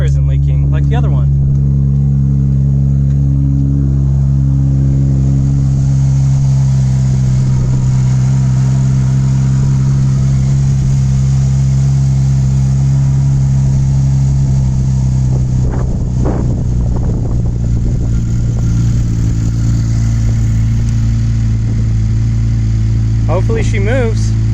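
A Ford Taurus SHO with a transmission that lost its fluid idles steadily and loudly up close, a deep constant drone with some clatter in the middle and brief talking.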